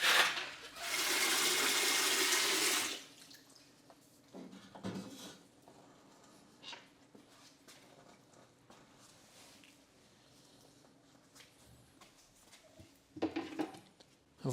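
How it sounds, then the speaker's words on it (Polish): Microfiber cloths are dipped and wrung in a bucket of clean water while cleaning equipment at a carpet laundry, a loud burst of pouring and splashing water at the start followed by fainter drips, sloshes and wet handling sounds. "Płuczemy w ten sposób, że zamaczamy te ściereczki we wiaderku, a brudną wodę zawsze wyciskamy obok."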